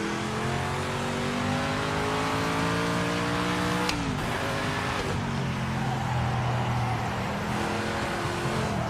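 Race car engine in the PMR video game, steadily revving with rising and falling harmonic whine, a sharp shift or drop near four seconds, then continuing loud and close throughout.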